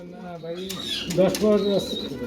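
Giant Homer pigeons beat their wings in short, fluttering bursts near the microphone, mixed with soft cooing and someone talking over the birds throughout.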